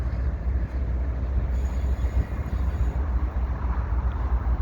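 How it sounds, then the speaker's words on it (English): A CP double-stack freight train rolls past at Dorval with a loud, steady rumble of wagons and wheels, a faint squeal riding over the continuous roar, with no voices. "So this is the afternoon double stack here at Dorval on Sunday, 12th of December 2021."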